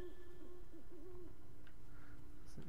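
Owls hoot in the Never Alone video game, a few soft, wavering low calls over a steady icy ambient drone, with faint chirps near the end.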